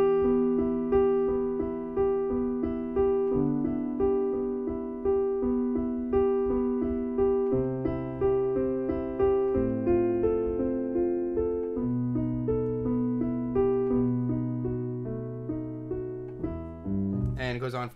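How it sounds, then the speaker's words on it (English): Solo piano plays the opening Adagio of Beethoven's Moonlight Sonata, steady rolling triplet arpeggios over low sustained bass notes, close and moderately loud throughout with no talking. "I'm going to be showing you the first part of Beethoven's Moonlight Sonata, the Adagio section."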